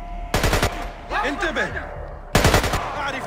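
Automatic gunfire from the Splinter Cell: Conviction video game: two loud rapid bursts of shots, the second after a gap filled by in-game sounds, with a faint voice in the middle.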